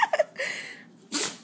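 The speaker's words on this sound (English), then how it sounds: "You gonna sneeze again?" A puppy gives a small snorting sneeze up close, preceded by a few soft sniffs and breaths, all quiet and brief in an indoor room.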